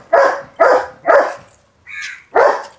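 A large dog barks five times in a fairly even rhythm, close and loud, with one higher yelp-like sound between the last two barks.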